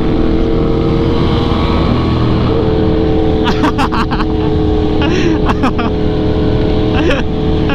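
Yamaha Aerox and Honda Vario scooters racing on a road in Lombok, a continuous loud engine drone with revving and passing engine whines layered over steady riding noise.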